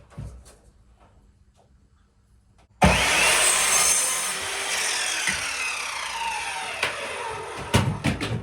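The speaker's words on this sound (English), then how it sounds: "I need to trim some insulation more" Insulation is cut back to a marked line while fitting a narrowboat bathroom bulkhead, heard as a near, steady rasping saw-like scrape that starts abruptly after a quiet lead-in and runs continuously, with a few sharper knocks near the end.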